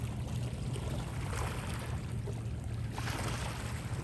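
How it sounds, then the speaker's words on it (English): Sydney harbour water laps gently against shoreline rocks, a soft, continuous wash and splash heard from close by, with a low hum of distant boat or city noise underneath and no talking. "As you can hear, the water's just lapping up"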